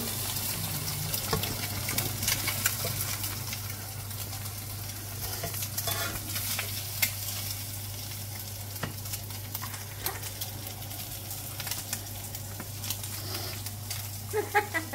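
Eggs and bacon frying in a pan for breakfast, a steady sizzle running throughout with occasional stirring and scraping clicks, close by, under a constant low electrical hum.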